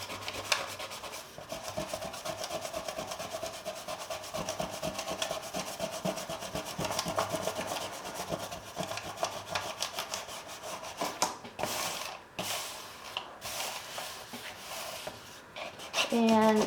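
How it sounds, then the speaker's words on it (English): Dried masking fluid rubbed off watercolor paper with an eraser or fingertips, a continuous dry scratchy rubbing that runs throughout in quick strokes, close and fairly quiet. "You can use a regular eraser, rubber cement eraser, or you can even sometimes do it with your fingers like this."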